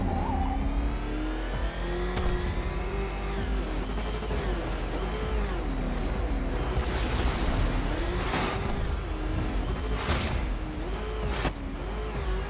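Car engine revving in Batman: Arkham Knight, a steady loud motor drone with rising and falling pitch sweeps and a few bright bursts, continuous throughout.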